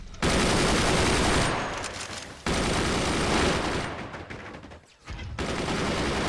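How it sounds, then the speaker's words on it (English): Incoming mortar fire pounds a fort in the game Forts, a loud dense barrage of blasts and rapid impacts in long sustained bursts with brief pauses between volleys. "Oh no, incoming mortars."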